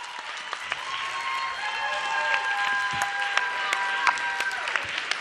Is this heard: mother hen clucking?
no